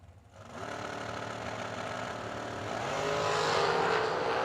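A dragster from a 04 Race Tech launches down the drag strip at a racing event. A loud engine roar builds steadily and grows louder and brighter toward the end, with no voices.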